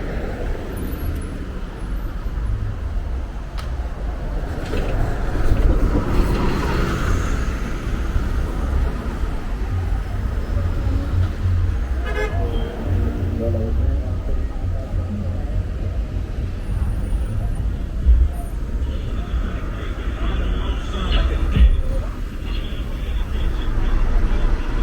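Steady street traffic roar on Fordham Road in the Bronx, continuous and fairly loud, with passing vehicles and a few brief horn-like tones near the end.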